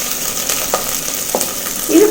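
Chopped shallots and green chillies fry in hot oil for a spinach curry, a loud steady sizzle with a few stirring scrapes, close up and with no voices.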